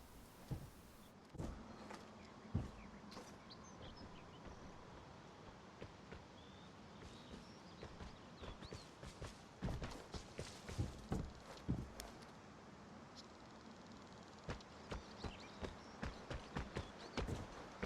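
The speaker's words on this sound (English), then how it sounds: "I hear footsteps." Footsteps in the video game Vigor thud and scuff in uneven runs over a low ambient hum, sparse at first and then quicker and more clustered toward the end, with a few sharper knocks among them.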